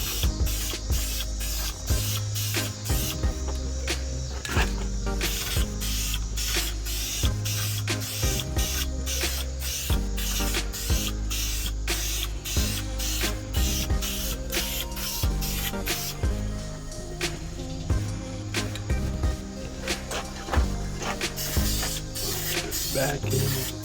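Spray coating being applied inside a Dodge Journey engine bay: steady, close hissing bursts that repeat in a rapid rhythm throughout, loud and continuous with no talking.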